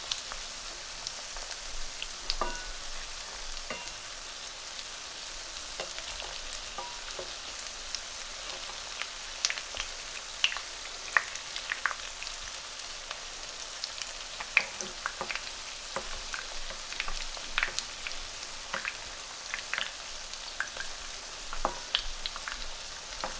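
Aloo tikki potato patties frying in a pan, a steady close crackling sizzle with scattered pops and occasional soft scrapes as they are flipped, no voices.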